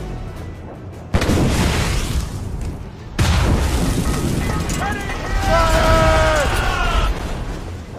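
Ship cannon broadsides in Assassin's Creed Rogue naval combat, two heavy booming volleys with rumbling tails, loud and close, overlaid with game music and shouted crew voices.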